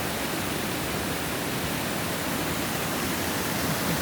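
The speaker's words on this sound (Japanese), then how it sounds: "水が滝になっております。" Rainwater from Typhoon No. 19 pours like a waterfall at a rural hillside spot in Okuno, a steady, dense, loud rushing roar with no breaks, close by and alone without voices.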